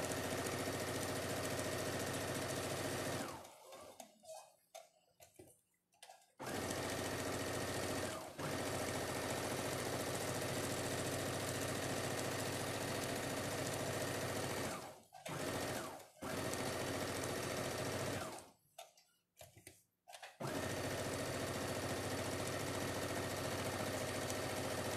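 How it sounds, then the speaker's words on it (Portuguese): Sewing machine stitching a doll's coat, a loud steady mechanical whir running in long bursts, with brief pauses between seams near five, fifteen and twenty seconds. "E agora as mangas, nós vamos estar costurando."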